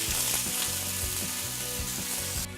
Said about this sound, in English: put color on both sides because it's, like I said, this is already cooked